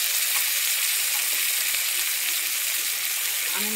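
A spice paste of ground cumin and chili with tomato and coriander powder fries in a pan, giving a loud, unbroken sizzling hiss close by with faint stirring.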